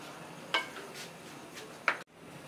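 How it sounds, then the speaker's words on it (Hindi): Spoon stirring yogurt and spices into chicken for a white chicken karahi in a pot, a few short scraping strokes with a faint sizzle between them, ending abruptly. "अब हम इसको अच्छी तरीके से मिक्स करेंगे।"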